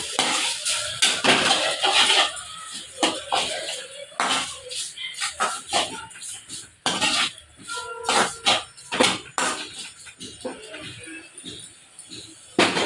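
A utensil stirs a salted tomato mixture in a cooking pot, making irregular clanks and scrapes against the metal. A voice talks over the stirring at intervals.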